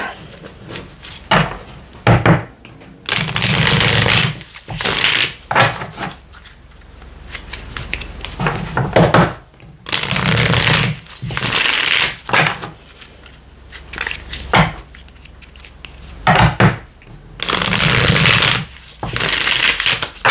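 Tarot cards are shuffled repeatedly in loud bursts of riffling and rustling, with short pauses between each shuffle.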